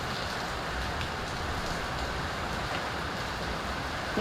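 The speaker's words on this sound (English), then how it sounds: "Oh, it's just getting louder and louder. You hear that? It's just pouring." Heavy rain pours down steadily in the Orlando, Florida area, a constant, even hiss of downpour with no breaks, moderately loud and with no voices.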